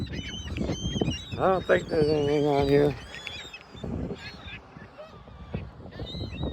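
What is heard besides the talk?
seagulls calling while being fed corn flakes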